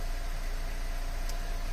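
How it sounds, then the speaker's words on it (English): A Mercedes car engine idles as it warms up, producing a steady, even low hum with no talking over it. "currently I'm letting the engine warm up for 5 or 10 minutes"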